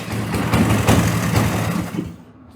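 A small snowblower engine runs with a rough, buzzing drone at close range, then cuts out abruptly after about two seconds.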